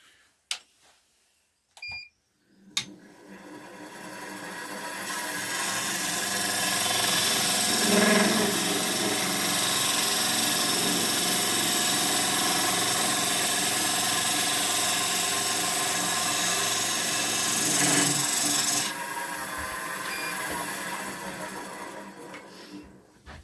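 A wood lathe spins up and turns a log candle holder, with a steady close whir and a light scraping cut that swells and fades over about fifteen seconds, framed by a few sharp knocks.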